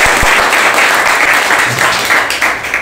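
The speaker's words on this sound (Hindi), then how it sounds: "बस जोरदार ताली बजाते हैं।" Loud applause from a class audience in a repair training session, dense steady clapping throughout, filling the room without talk over it.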